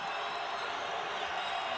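Small basketball arena crowd on its feet during a men's college game, University of Washington against Arizona State, a steady broadband roar of cheering that holds at an even level throughout, with no single voice standing out.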